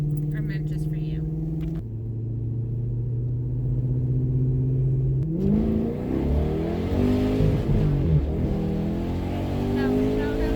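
A sports car engine drones steadily from inside the cabin, then revs up with rising, rumbling acceleration that surges and shifts through gears, under the talk of two people.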